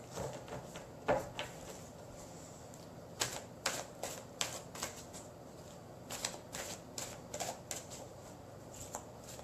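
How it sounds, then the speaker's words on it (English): Playing cards being shuffled and drawn from a deck, a run of crisp riffling and flicking bursts spread across the stretch, close and fairly quiet with no talking. "Okay, so I'm going to pull another card today."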